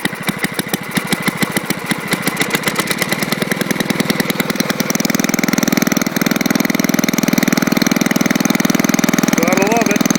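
An old snowblower engine runs steadily at close range, a loud rapid chugging that settles into an even drone.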